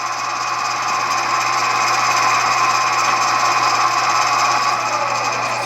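A Clausing Ibarmia B-45 geared head drill press runs a tapping cycle with automatic reverse at about 325 RPM, producing a steady, fairly loud mechanical whine and gear hum that holds throughout with no speech.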